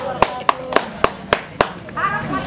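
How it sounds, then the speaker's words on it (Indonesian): A small group of people clap in sharp, evenly spaced bursts, about six distinct claps close by, followed by a brief murmur at a fire-prevention outreach event. "Tepuk tangan."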